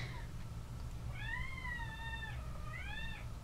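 A cat gives two drawn-out meows, the first longer and the second shorter, fairly faint over a steady low background hum, with no talk.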